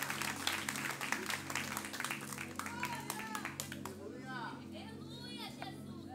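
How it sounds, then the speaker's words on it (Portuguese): Church audience at a youth congress clapping and cheering, a busy layered patter of hands with scattered voices and children, strong at first then thinning out. "Com muitos aplausos para o nosso Deus."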